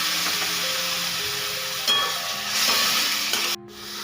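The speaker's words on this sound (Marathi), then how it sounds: "आपल्याला याच्यामध्ये ना अर्धा कप पाणी टाकून घ्यायचं आहे।" Half a cup of water poured into a hot pan of vermicelli upma with turmeric, setting off a loud, steady sizzle and steamy hiss that surges midway and then drops off abruptly.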